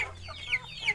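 A chicken clucks in short, repeated calls at close range, a few sharp bursts over a low steady background hum, with no voices.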